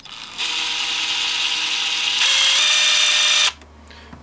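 A Bosch GDX 18V-200 C brushless impact driver spins at its lowest speed setting, a loud, steady whirring hum with a whine that rises in pitch partway through, running about three seconds before cutting off abruptly.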